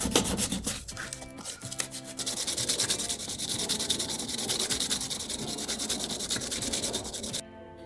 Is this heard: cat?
no